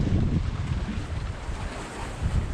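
Strong wind gusts during Hurricane Beryl in the Cayman Islands, a steady loud rush with a roaring, buffeting low end that swells at the start and again near the end, no voices present.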